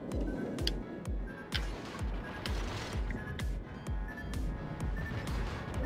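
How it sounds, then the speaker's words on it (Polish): A computer mouse clicks during a World of Warships session, a string of sharp, faint ticks at an uneven but steady pace under continuous game rumble and booms. "możliwe, że słychać klikanie myszki"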